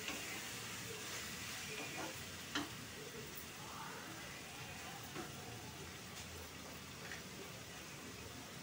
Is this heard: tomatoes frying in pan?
yes